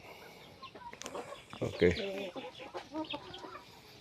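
Chickens clucking on a small farm plot, several birds making short broken clucks at close range, with a brief word spoken over them.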